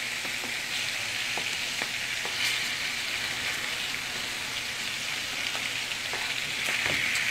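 Wild caught salmon pan frying, a constant crackling sizzle with scattered pops and spatters, steady and close with no voices.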